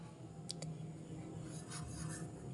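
A pencil tracing over a dotted number on paper in a first-grade maths workbook, soft continuous scratchy rubbing with a few brief light ticks, close and quiet, no talk.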